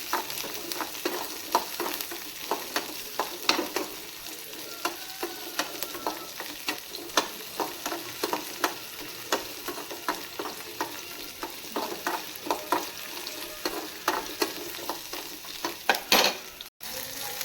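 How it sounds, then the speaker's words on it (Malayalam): Shallots stirred and sautéed in a hot pan for a rice curry, a steady sizzle of frying under repeated spatula scrapes and taps that keep an irregular rhythm throughout. "അപ്പം തന്നെ ചെറിയുള്ളിയും നന്നായി ഇളക്കി കൊടുക്കാം."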